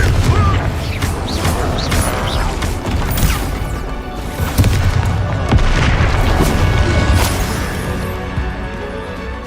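Confringo fire spells blast repeatedly in the Hogwarts Legacy video game, with loud booming impacts and crashes layered over dense combat noise and brief shouted spell voice lines.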